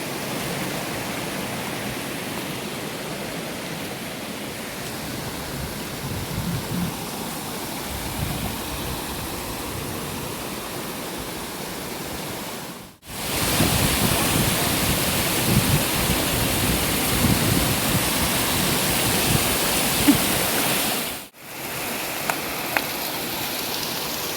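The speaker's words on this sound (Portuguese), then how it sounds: "A cachoeira hoje, ela tá com a água mais cristalina, tá vendo?" Steady broadband rush of a waterfall with flowing water, clear after a muddy flood, heard near and continuous with two brief dropouts.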